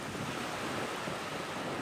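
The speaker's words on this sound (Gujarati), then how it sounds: "આમ જુઓ કેટલા મોજા ઓ બાપા રે" Strong wind and rough sea waves roar steadily around a small fishing boat at sea, a dense continuous rush with no pauses and no voices.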